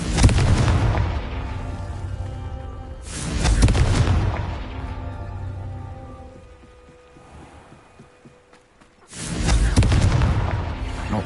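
A Confringo fire spell in the Hogwarts Legacy video game goes off as a deep, loud explosive boom that rolls away over several seconds before a second blast hits near the end.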